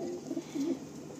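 A few soft, low coos from pigeons come in short broken bursts, close by and fairly clear against light background noise.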